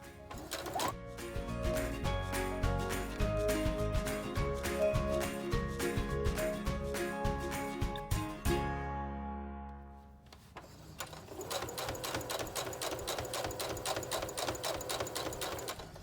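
A sewing machine stitches across a small dog dress with a fast, even mechanical clatter. It stops briefly, then resumes in a similar rhythmic run for a short backstitch at the end. Up close, with no voices.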